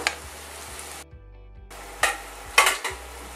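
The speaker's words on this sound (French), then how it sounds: "on fait mijoter ça tranquillement" Smoked salmon and caper sauce simmering gently in a pan for fettuccine: a soft sizzle with a few clinks of a utensil against the pan, close, with a short quiet gap partway through.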